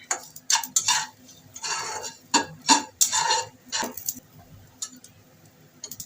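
Bottle gourd leaves going into a pan, a string of light clinks, taps and rustling stirs at close range, quiet and uneven.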